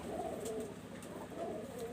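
Teddy Golden Royal high-flying pigeons coo softly in a loft, low murmuring calls repeating over a faint, steady background.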